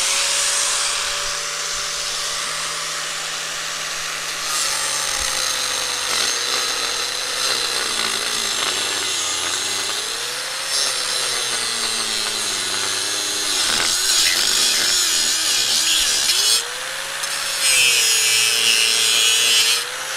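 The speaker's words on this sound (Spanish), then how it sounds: "Así es que vamos a cortar la varilla." An angle grinder cuts through steel rebar for a firepit build, a loud, steady, abrasive whine that runs for about twenty seconds, its motor pitch dipping and rising as the disc bites into the bar.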